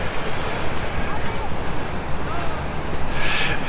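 Ocean waves breaking and surging at Waimea Beach on Oahu's North Shore, a steady loud wash of surf with wind buffeting the microphone throughout.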